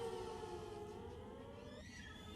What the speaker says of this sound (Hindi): ये सायरन की आवाजें हैं, अलर्ट सायरन जो लगातार जम्मू और आसपास के इलाकों में बजाए जा रहे हैं